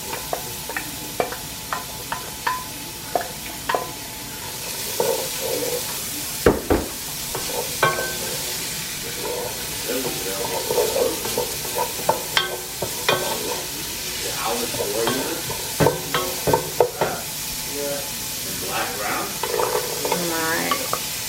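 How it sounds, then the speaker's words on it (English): Chopped onions, carrots and celery sautéing in a pan, a steady sizzle broken by frequent scrapes and clatters of a utensil stirring, with brief bits of nearby talk. "I'm going to add my onions, carrots, and celery. And I will saute it for about 3 minutes."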